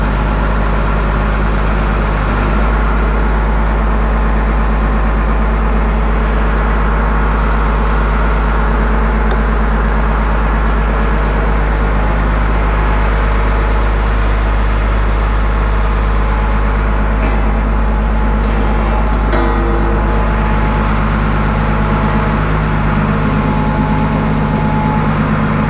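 A Cat 563D vibratory roller compactor, ex-military, idles in neutral with a steady low diesel rumble that runs unbroken and loud throughout, with no talking over it.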